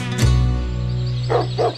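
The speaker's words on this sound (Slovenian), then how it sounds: "nemški ovčar Diego Jezno laja na neprespanega Joseja Fontano" A German shepherd barks close by in a Slovenian TV comedy, one sharp bark followed by two shorter yips, over a steady low background hum.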